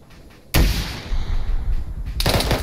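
Rocket fired from rocket pods at a Tunguska vehicle in a military combat video game: a sudden loud blast opens into a sustained roaring rumble, with a second sharp burst near the end.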